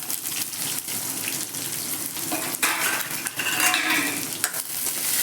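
Onion, green chilli and curry leaves stirred in a pan for Gujarati chickpea-flour pithla, with a steady sizzle of frying and scraping spoon strokes throughout, close and fairly loud.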